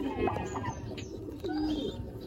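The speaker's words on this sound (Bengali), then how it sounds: "এ হইল কবুতর।" Domestic pigeons kept by a hobbyist coo softly in a low, rolling murmur, with a couple of brief swells, over a steady background hum.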